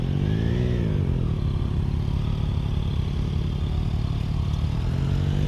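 A motorcycle rides and turns in a training area, its engine droning loudly and continuously with a slight rise in pitch as it leans through the turn.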